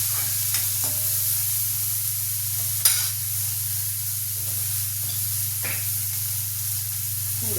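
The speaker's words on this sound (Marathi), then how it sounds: "चांगलं परतून घ्यायचं।" Tomato, spring onion and fenugreek leaves sautéing in a pan, a steady close sizzle and hiss with a few soft stirring scrapes and one sharp knock.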